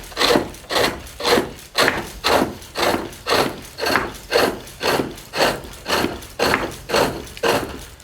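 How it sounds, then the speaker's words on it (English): Roughing gouge cutting a wood cylinder on a pole lathe, a rhythmic scraping rasp that comes in regular strokes about every 0.6 seconds as the lathe turns back and forth, close and steady with no voices. "We can continue with the roughing gouge and go further down on that cylinder if we want to."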